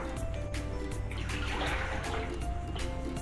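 Oil and water poured into a large mixing bowl for pumpkin bread, a continuous splashing trickle over a steady background wash.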